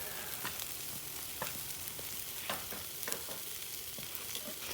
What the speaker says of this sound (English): Is there anything like the sizzling sound of a charcoal barbecue?